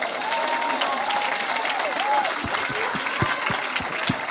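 A church congregation breaks into sustained applause and cheering, dense and lively throughout, with a few sharp claps and thumps standing out near the end.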